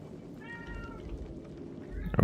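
A pet cat gives a clear, drawn-out meow in the middle of the clip, moderately close, over a soft steady background hum, with a brief louder bump near the end.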